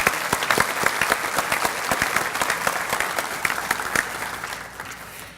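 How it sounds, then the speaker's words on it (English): A room full of people clapping steadily at a breakfast speaker event, dense and fairly loud, tapering off slightly at the end. "So if you folks would stand, we'll give you a big old round of applause."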